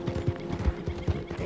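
Horse hooves clip-clopping in Red Dead Redemption 2, a quick uneven run of close thuds over a low steady hum.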